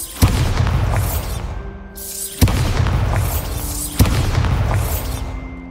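The Bombarda spell in Hogwarts Legacy goes off as three loud, booming explosions at steady intervals, each one a sharp blast followed by a rumbling, crackling tail, with no talking.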